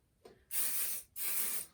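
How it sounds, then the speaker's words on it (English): Two quick bursts of hair spray hiss onto freshly curled hair. Each burst lasts about half a second, with a brief gap between them, and the sound is soft and close. "I'm gonna spray it"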